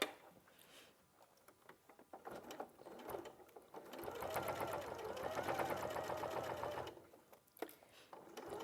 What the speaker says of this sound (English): I'm going to sew down the sides here.